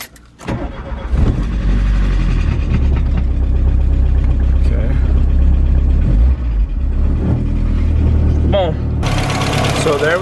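An MK1 Volkswagen Cabriolet with a new timing belt, water pump and alternator cranks after sitting for weeks, catches and settles into a loud, steady idle close by, with a person speaking briefly near the end.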